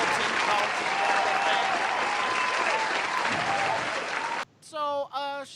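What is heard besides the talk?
audience applause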